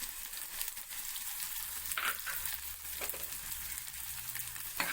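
Chopped ginger, garlic and finely cut onion sizzling and frying in hot oil for a Kerala pulingari, a steady soft crackle with occasional brief stirring scrapes, close and fairly quiet.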